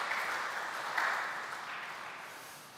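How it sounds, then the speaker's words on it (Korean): Soft applause from a church congregation, steady clapping that swells slightly and then tapers off, somewhat distant and fairly quiet. "우리 수고하실 분들 위해 박수로 격려해 주시기 바랍니다"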